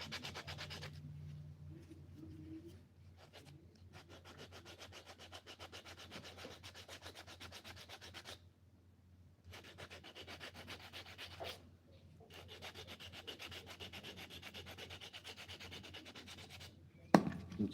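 Hand sanding wood with 400 grit sandpaper, quiet close rhythmic rubbing strokes in several bursts separated by short pauses, with a small knock at the end.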